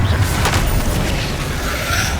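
Spell blasts from the Hogwarts Legacy video game, fire and levitation magic going off as a loud, continuous rumble with booming impacts and crackling texture.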